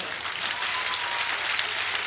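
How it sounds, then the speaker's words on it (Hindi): Thunderous applause from a crowd at a political rally, a dense, steady wash of clapping that fills the whole brief moment without voices. "अरे तालियों की गड़गड़ाहट उत्साह वर्धन कर"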